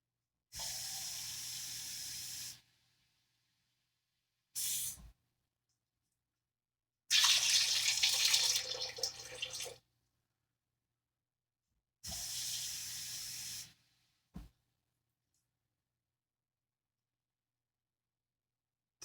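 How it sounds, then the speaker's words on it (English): Tap water runs into a pot for cooking pasta in a kitchen, in several separate bursts of steady gushing flow broken by silent pauses, close and fairly loud with no talking. "And add some water."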